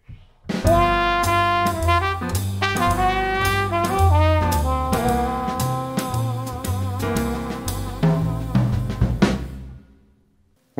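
Jazz band plays a longer concluding melody, full and loud with horns over bass and drums, phrases moving steadily before a final held chord that rings out and stops, no talking.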